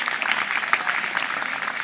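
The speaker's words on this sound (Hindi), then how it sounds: "तालियां इसके लिए" A class of schoolchildren at a school debate applauds a girl, a dense, even patter of many small hands clapping steadily for the whole stretch, moderately loud with no speech on top.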